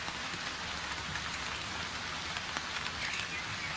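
Steady rain pattering on foliage, a dense even hiss with scattered drips, continuous and fairly close throughout.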